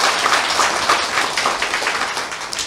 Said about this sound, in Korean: 박수 한번 마지막으로 크게 치겠습니다